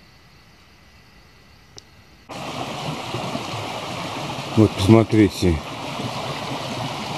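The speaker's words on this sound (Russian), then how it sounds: "как ручьи разлились. Обычно в нем почти что воды нету. А сейчас практически речка." A rain-swollen mountain stream rushes in a steady, loud roar that starts abruptly after a quiet moment, while someone speaks briefly over the water.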